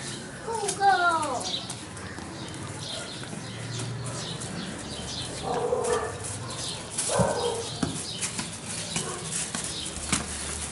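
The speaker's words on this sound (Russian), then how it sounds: "Вот такие вот собаки." Dogs bark in a residential area of Boudha, Kathmandu: a short, sharp burst of barking early on, then scattered distant barks and bird sounds under ongoing conversation.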